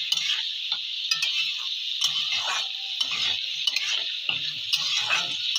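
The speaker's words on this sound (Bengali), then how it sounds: "পেঁয়াজগুলো আমি তেলের মধ্যে দিয়ে দেবো।" Onions frying in hot oil, a steady close sizzle broken by scraping and clinking as a utensil stirs them around the pan.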